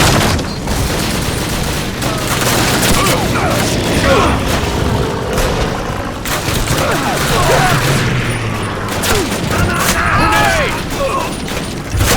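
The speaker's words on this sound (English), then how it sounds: "Look, that grenade!" A grenade explosion in Call of Duty amid a dense wartime battle mix of booming blasts, gunfire and mechanical clatter, loud and continuous.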